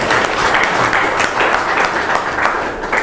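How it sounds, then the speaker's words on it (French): Audience at a book dedication ceremony applauds for the father provincial. The clapping is dense and sustained, a steady wash from many hands that runs the whole stretch at close range. "je vous demande d'applaudir pour notre père provincial"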